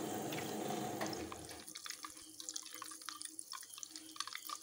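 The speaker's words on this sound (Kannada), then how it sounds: "ಚಟ ಚಟ ಚಟ ಹೇಳ ಶುರು ಆಯ್ತು" Ghee bubbling and crackling in a pan, a dense wash of fine popping and sputtering that thins after the first second into scattered sharp crackles over a low simmering hiss.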